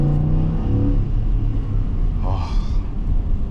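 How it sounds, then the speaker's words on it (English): A Ford F150 XLT with a 10-speed automatic drops through its gears, the engine note rising and falling in a loud, close rumble with a brief whirring swell near the end. "you get to hear this thing downshift 7 times"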